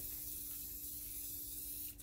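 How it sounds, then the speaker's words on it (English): An aerosol spray can hisses steadily as it lays a light finish coat over an acrylic pour painting, one continuous soft spray that cuts off at the end. "Just gonna come over here and start spraying."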